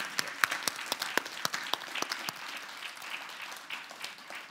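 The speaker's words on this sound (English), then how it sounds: "Can we have one last round of applause for our guest today," An audience at a public interview event applauds the guest, a former international tribunal judge, with steady clapping punctuated by several sharp nearby claps that thin out and soften toward the end.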